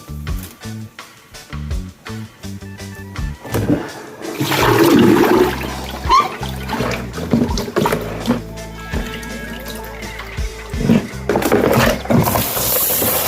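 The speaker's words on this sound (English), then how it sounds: "I'm washing them one more time, guys." Water sloshes and splashes in a sink as chicken feet are washed for soup, a loud close rush of running and churning water with knocks and rattles, no talking heard.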